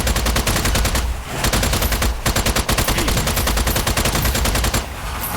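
Rapid automatic gunfire and overlapping shots blaze nearly nonstop in the video game Strange Brigade, loud and dense with brief gaps between bursts.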